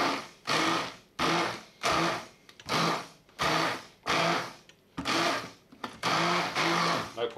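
A blender chops through diet soup on its low setting in short, repeated pulsing bursts. Each burst whirs loudly and then drops away, about a dozen times in quick succession.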